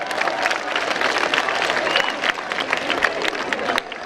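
A comedy show crowd breaks into loud, sustained applause, dense clapping filling the room for several seconds with a few scattered cheers.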